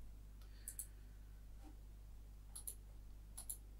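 Keyboard keys pressed to paste with Control V, heard as a few faint, sharp clicks in small clusters spread out over a quiet room hum.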